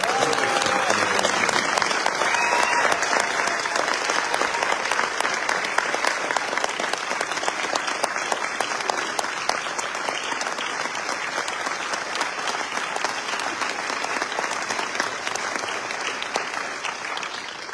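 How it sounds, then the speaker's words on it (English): An audience at a US Army music school graduation ceremony gives a long round of applause that stays dense and steady, tapering only slightly toward the end. "Please join me in a round of applause for the graduates of Army Musician Corps Staff."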